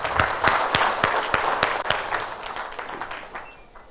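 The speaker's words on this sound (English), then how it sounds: "A big round of applause for Adi." A crowd at a business community talk breaks into hearty applause, with several sharp, close claps standing out over a dense wash of clapping that slowly thins and fades over about four seconds.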